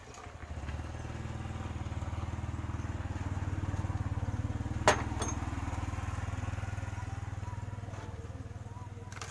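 An agricultural sprayer pump engine runs steadily at moderate volume, with one brief sharp knock partway through.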